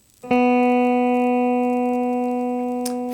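After a brief pause, one plucked open B (second) guitar string sounds and rings on steadily, slowly decaying, with a faint tap near the end.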